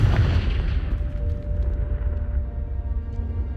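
Confringo spell explosion in Hogwarts Legacy, a heavy low boom that hits at once and decays into a rumbling tail, loud and close with no talk.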